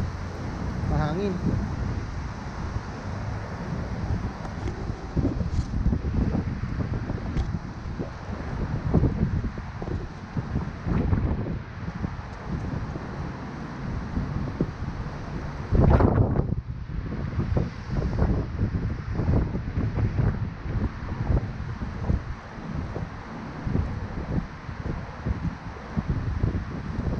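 Gusty wind buffets the microphone during a walk through a small exercise park, a steady low rumble swelling and easing throughout, with a stronger gust near the middle and a voice talking intermittently over it.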